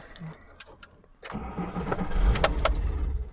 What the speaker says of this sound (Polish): Ach, cudnie to odpala.